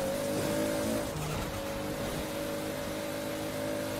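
The Eliminator car accelerating in Forza Horizon 4, a steady droning engine tone that dips and rises briefly as it shifts, then holds a sustained pitch, fairly faint and alone.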